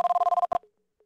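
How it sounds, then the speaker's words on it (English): Telephone ringing in the X-Files video game, a rapid electronic trill pulsing about ten times in half a second, then cut off, loud and alone. "All right, pick up the phone."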